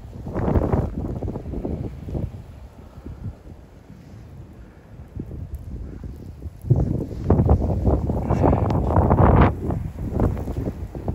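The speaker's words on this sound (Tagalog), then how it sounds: "Grabing hangin." Strong wind gusting during a heavy snowstorm in Toronto, Ontario, a loud roaring rush buffeting the microphone that dips midway, then surges harder near the end, with no voices.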